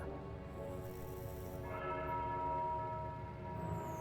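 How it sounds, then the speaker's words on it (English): A bell tolls in the supernatural point-and-click video game Foolish Mortals, a deep sustained ringing with a long humming decay that swells again partway through, heard alone without talk. "The tolling of the bell."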